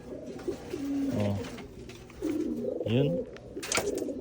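Pigeons coo in several bursts close by during free flight recall training, with wingbeats and outdoor rustle around them; someone speaks briefly partway through.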